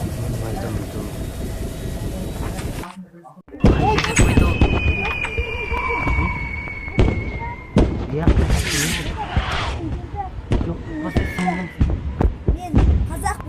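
Gunfire in a Minecraft film set in a wartime scene, with sharp, scattered bangs and cracks popping at irregular intervals amid other loud game effects and rumbling noise.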